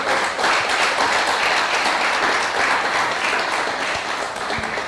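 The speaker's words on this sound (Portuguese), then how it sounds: "eu quero que você dê uma salva de palmas ao Senhor" Church congregation clapping together in sustained, dense applause, loud and steady throughout with no talking over it.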